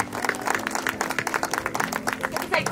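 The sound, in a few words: audience applause for a dog's performance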